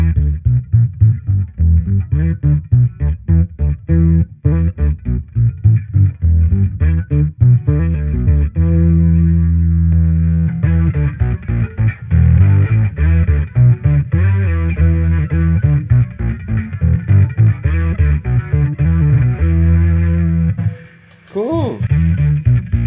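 A bass guitar runs through a compact Darkglass setup with chorus and octave effects, producing loud, thick, driven notes in a busy rhythmic line that continues almost without a break until a brief drop near the end.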